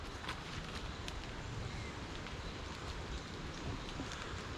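Steady rain pours through woods during Hurricane Debby, a dense, unbroken wash of drops on leaves with gusty wind noise, loud and constant throughout.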